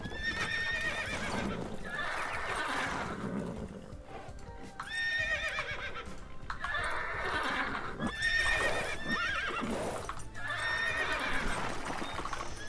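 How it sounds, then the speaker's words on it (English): Horses in the Age of Empires 2 video game whinny in repeated loud bursts over a constant backdrop of clip-clopping hooves, the neighs rising and falling every couple of seconds. "these horses are starting to be annoying a little bit."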